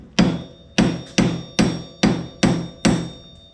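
Steel punch struck by a hammer to stake an axle nut, six sharp metallic blows at an even, unhurried rhythm, close and loud, each ringing briefly before the next.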